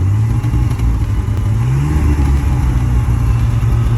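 A car engine runs steadily at idle with a slight rev midway, loud and close throughout, no voices over it.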